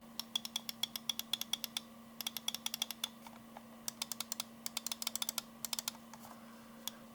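Rapid, sharp clicks from a Razer DeathAdder V3 Pro Faker Edition gaming mouse, sounding in quick irregular bursts and runs of taps over a steady low electrical hum, close and crisp with no voice.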